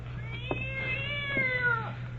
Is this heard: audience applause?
no